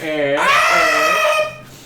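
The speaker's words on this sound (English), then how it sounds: "That's me screaming and shrieking in bed" A person screams and shrieks in bed in a high, strained voice with wavering pitch that holds for over a second, then trails off.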